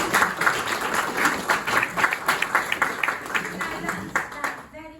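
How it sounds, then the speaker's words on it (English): An audience at a Peace Embassy gathering in Scotland bursts into loud, sustained applause, dense overlapping claps filling the room for about five seconds before tapering off at the end. "I think that deserves a clap too."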